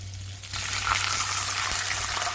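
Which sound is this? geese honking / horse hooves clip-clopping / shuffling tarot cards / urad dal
urad dal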